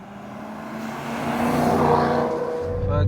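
A 449 bhp BMW M3 saloon builds speed in third gear, its engine note rising steadily and loudly under road and wind noise heard from inside the car.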